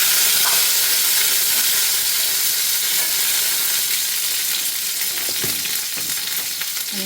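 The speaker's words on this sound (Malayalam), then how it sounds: "അടുപ്പത്ത് വെച്ചിട്ടുണ്ട്. അതിൽ കുറച്ച് കടുകിട്ട് വെച്ചിട്ടുണ്ട്." Mustard seeds spluttering in a hot pan on the stove, with a dense continuous sizzling hiss and scattered crackling pops throughout, close and loud with no talking.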